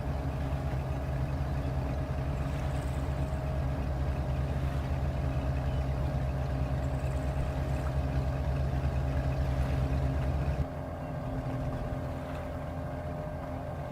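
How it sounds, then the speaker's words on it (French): A fishing boat engine idles with a steady low droning hum while operating near Ouessant, then drops in level as it is switched off near the end, leaving a quieter residual rumble; no talk. "je vais arrêter le moteur."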